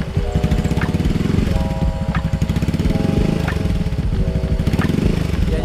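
Mio i 125S scooter-style motorcycle fitted with an Akrapovic exhaust, held at partial throttle: a steady, loud, close buzzing engine drone with a rhythmic pulse and periodic surges, no talking.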